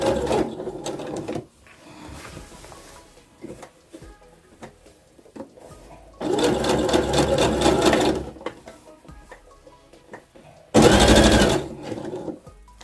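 Sewing machine stitching a bomber jacket seam in short bursts: a quiet run, then two louder rapid whirring stretches separated by pauses, with faint handling noises between and no talk.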